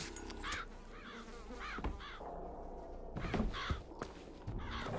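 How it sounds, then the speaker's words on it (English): Birds caw repeatedly in the video game Bioshock Infinite, a series of harsh crow-like calls in short bursts, fairly close and alone without talk. "So birds are very not afraid of you."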